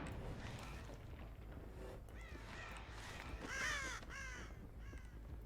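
Crows caw in the Dead by Daylight video game, a quick burst of several harsh calls clustered in the middle, moderately loud over a low game ambience.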